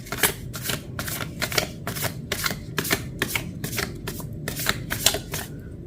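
Tarot cards are shuffled by hand in quick repeated riffles and flicks, a crisp papery rhythm of about a dozen bursts over a low background hum, close and moderately quiet, with no speech.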